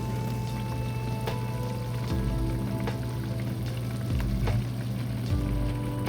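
Shrimp fry in a hot pan with a steady, close sizzle and soft crackles under a low kitchen hum, with occasional clicks and no talking.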